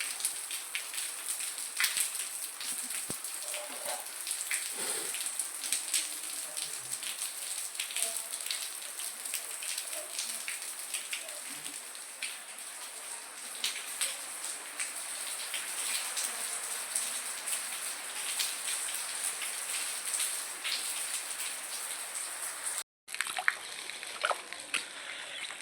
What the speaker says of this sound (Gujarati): જો હું વરસાદ પડ્યો છે, જો પાણી આવે છે.